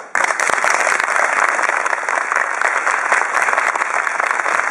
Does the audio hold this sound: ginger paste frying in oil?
no